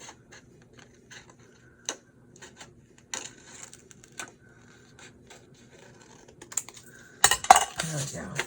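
Light clinks and taps of items knocking against glass, scattered irregularly and fairly faint, with a louder cluster of clattering near the end.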